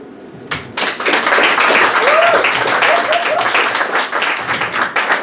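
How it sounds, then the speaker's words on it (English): An audience at a poetry open mic gives a poet a steady round of applause. Dense, close clapping starts abruptly and holds for several seconds, with a voice talking over it. "Another round of applause for Tea"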